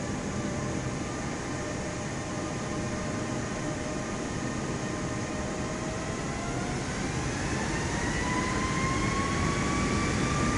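A simulated aircraft engine runs at full throttle while the plane sits on the ground in Microsoft Flight Simulator 2024, a steady, dense roar with a thin whine that slowly rises over ten seconds.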